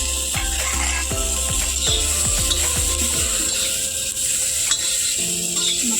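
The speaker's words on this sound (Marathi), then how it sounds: "आणखी थोडंसं तेल घालायचं आणि आपले टमाटर हे ते सुद्धा भाजून घ्यायचं टमाटर थोडीशी भाजायला लागली आपली तर लसूण टाकायचं" Tomatoes and garlic fry in oil for chicken on a wood-fired stove, a steady sizzle broken by a run of scraping stirs and clinks of a spoon against the pan, with no talking.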